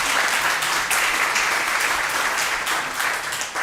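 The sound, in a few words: audience applause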